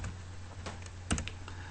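Fingers type on a computer keyboard in a short run of soft, close keystrokes with one sharper click, over a low steady hum.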